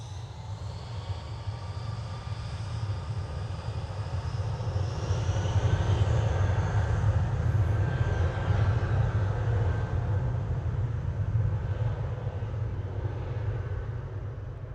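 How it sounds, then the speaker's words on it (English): An Airbus A319 jet takes off at Manchester Airport, a continuous engine roar that swells to its loudest midway and then slowly fades, with no voices. "GUPO A319 on the roll"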